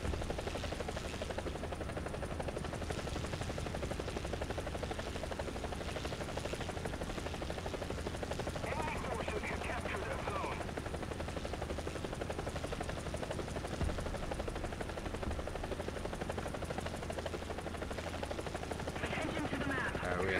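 A Gazelle helicopter flying in the War Thunder combat game gives off a steady, loud rotor and engine drone that holds for the whole stretch without a break.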